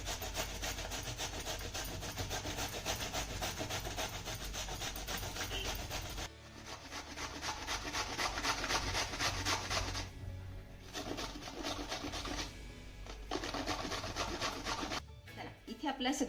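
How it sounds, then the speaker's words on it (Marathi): Unpeeled pumpkin grated by hand on a large grater, with steady repeated rasping strokes, loud and close, running continuously with a brief pause midway and no talking. "आता भोपळ्यावरची साल न काढताच हा भोपळा मी किसून घेते."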